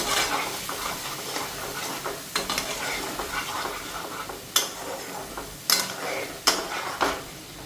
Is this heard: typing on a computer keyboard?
no